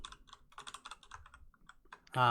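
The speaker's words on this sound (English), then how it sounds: "I'm just typing it up now." Rapid clicking keystrokes on a computer keyboard, tapped in quick uneven bursts at close range, with a voice breaking in briefly near the end.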